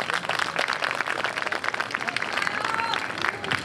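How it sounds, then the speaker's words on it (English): An audience gives a round of applause to a performer at a spoken-word event, a crowded patter of clapping with scattered cheers and voices mixed in, steady and lively throughout. "So can we have a small round of applause for Chaya right there?"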